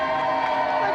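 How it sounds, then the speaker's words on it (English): Studio audience cheering and applauding for the undefeated champion on a video game show, a steady dense roar of crowd noise held at full level from start to finish. "Round of applause, please, for our undefeated champion, Golden Bomberman"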